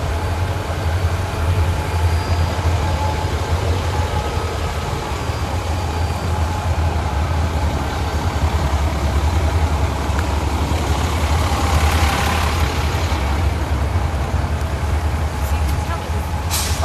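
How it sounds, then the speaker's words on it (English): A heavy, continuous rumble of a passing train fills the whole stretch, loud and close, with low-pitched roaring and faint metallic squeals, in stormy weather. "I'm gonna stop talking for a minute while this train goes through."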